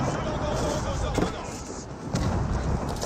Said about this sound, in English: French cannon does get a good hit there.